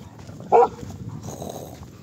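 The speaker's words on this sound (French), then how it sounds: "Elle fait peur aux gens quand elle aboie comme ça." A golden retriever named Cookie gives one loud, sharp bark at a beach in Normandy, standing out briefly against steady wind and background noise.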